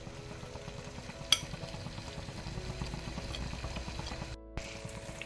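Mutton is stirred in a hot pan, a continuous soft sizzle with scraping and shuffling of meat, plus one sharp clink early on and a momentary drop-out near the end.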